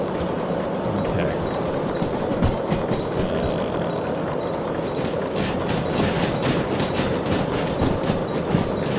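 A locomotive in the Derail Valley game rolls along the rails with a steady loud rumble and rhythmic clickety-clack that grows sharper partway through, under faint background chatter.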